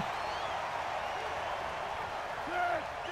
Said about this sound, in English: Crowd is roaring here in Paul Brown Stadium